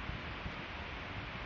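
Steady broadband wind noise buffets close by on a cold, wet day, a continuous rushing roar with no pauses.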